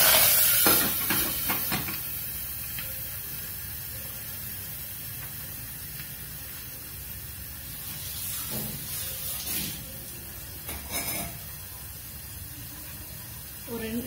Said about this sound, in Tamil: இப்ப கடுகு பொரிய ஆரம்பிச்சிருச்சு